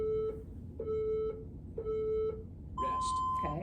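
Electronic workout timer during a beginner loop band strengthening session, sounding three evenly spaced steady beeps followed by a longer, higher tone, fairly loud over faint background noise.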